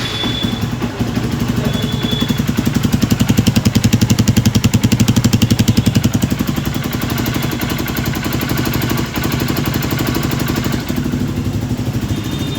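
A freshly rebuilt motorcycle engine, earlier seized at speed, idles close by with a rapid, even exhaust pulse that swells briefly in the opening seconds and then settles into a steady thumping beat.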